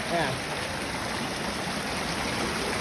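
Continuous rushing of a stream after rain at Krathing Waterfall, Khao Khitchakut National Park, Chanthaburi, Thailand, steady and fairly loud, with a brief faint voice-like sound near the start.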